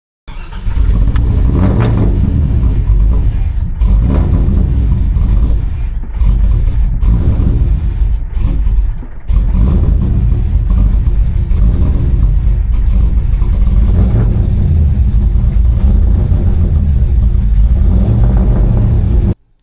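Engine of a 1992 Chevy C1500 pickup with a swapped LS1 V8 revving repeatedly during idle tuning, loud and close with a deep rumble, the revs swelling and falling back several times with no talk over it.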